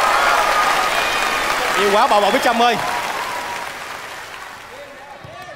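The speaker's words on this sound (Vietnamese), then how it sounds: "Một tràng pháo tay cho Bích Trâm đi ạ." A crowd applauds nanny Bích Trâm during a children's football show, steady clapping throughout with a voice calling out over it midway and sound tapering off at the end.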